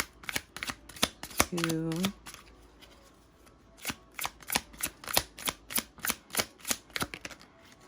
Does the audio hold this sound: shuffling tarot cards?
yes